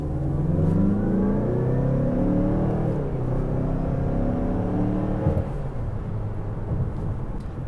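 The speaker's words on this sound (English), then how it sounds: "So we will give it a little bit of gas here and see how it feels." A 2021 Mazda CX-5 with a 2.5-liter turbo engine accelerating, heard from inside as a loud, steady low rumble with rising engine tones climbing through the gears, with no talking over it.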